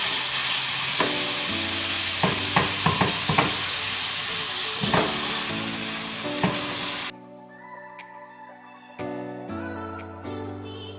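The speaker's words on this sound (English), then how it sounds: "that's 475 grams of minced lamb, and we cook all minced meat in the same way" Minced lamb sizzles and spits steadily in a hot pan for several seconds, with scraping stirs, before the frying drops away to quieter clinks and faint sizzling.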